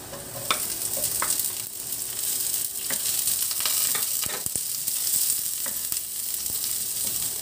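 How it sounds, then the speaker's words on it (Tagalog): Garlic and onion sauté in a hot pan, a steady close sizzle and crackle with occasional sharp scrapes and clicks of a stirring utensil, no voices. "Mag-gisa na tayo ng bawang. Lagyan na natin yung sibuyas."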